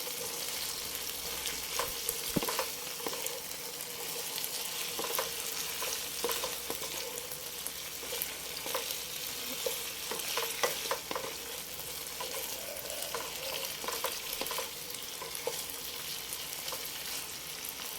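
Salted chicken wings are stirred in a hot pan, giving a steady close sizzle broken by repeated scraping strokes of the utensil, with no talking.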